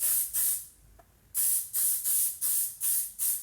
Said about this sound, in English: I'm going to go in with the setting spray